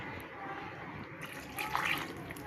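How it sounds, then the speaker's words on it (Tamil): Water pours briefly into a pot, a soft splashing trickle over a low background hum, close and fairly quiet. "இப்போ இதில் கொஞ்சம் தண்ணி ஊற்றலாம்."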